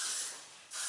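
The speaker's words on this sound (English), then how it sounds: "This is called Blast. This is a spray adhesive." Blast spray adhesive from an aerosol can misted onto a boy's hair during a short haircut, a close, steady hiss that dips slightly midway and swells again at the end of a single burst under a second long.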